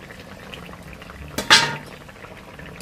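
Rohu fish pieces go into a simmering curry with potato, eggplant and lentil dumplings, giving one short splash and sizzle burst that quickly fades back into a low bubbling background.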